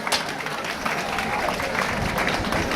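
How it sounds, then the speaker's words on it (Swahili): A school audience at a Nkubu High School health talk claps for a speaker, a brief continuous burst of applause filling the hall. "sasa makofi kwa Mwenda Mbijiwe"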